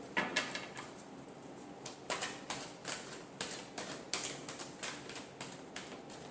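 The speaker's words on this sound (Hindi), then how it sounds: "एक और शफल करते हैं।" Tarot cards being shuffled by hand, a run of quick, crisp riffling and snapping bursts in an irregular rhythm, close and fairly quiet, with no talking.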